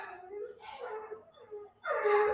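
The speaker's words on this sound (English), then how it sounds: "What are you barking at?" A dog indoors gives short whining, moaning vocalizations in a few quick bursts, fairly close and moderately loud, ending in a stronger cry.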